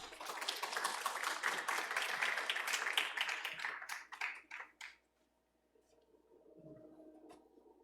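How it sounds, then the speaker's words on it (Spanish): Applause for a student presenter at an academic arts presentation, a dense burst of many hands clapping that fades out after about five seconds, followed by quiet room noise. "Un aplauso para Álvaro."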